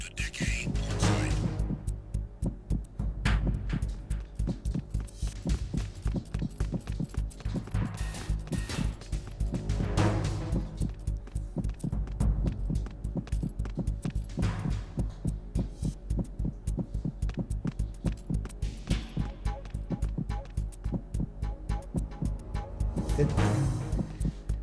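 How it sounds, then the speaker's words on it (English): A steady, heavy heartbeat pulses throughout in Metal Gear Solid 2, a low rhythmic thumping with a faint hum beneath it and occasional louder swells. "his heart beating like that because of enemies or the lady right here?"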